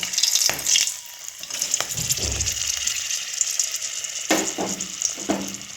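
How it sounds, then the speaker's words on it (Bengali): Green chillies fry in hot oil with panch phoron and a bay leaf, giving a continuous crackling sizzle broken by a few sharp clatters of stirring, close up and without talk. "এরপর দিয়ে দিচ্ছি কাঁচা লঙ্কা।"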